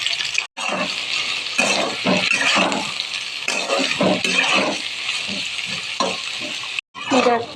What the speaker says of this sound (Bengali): তো আমরা এখন ভেজে নেব সবজিগুলো।